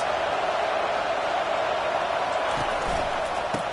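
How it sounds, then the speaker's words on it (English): A football stadium crowd at a Kansas versus Oregon game roars continuously to help the defense, a dense, loud wall of noise with no break. "Listen to this crowd just shaking the girders of this place, trying to help their defense."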